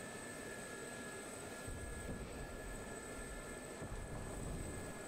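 A Gazelle helicopter in the flight simulator game DCS roars steadily and loudly throughout, engine and rotors making a dense continuous drone with a faint high whine on top.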